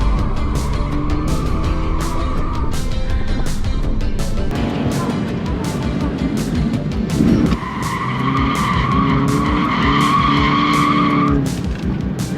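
A car drifting, its tires screeching in long squeals that rise and fall, close and loud over a revving engine, with a short break in the middle.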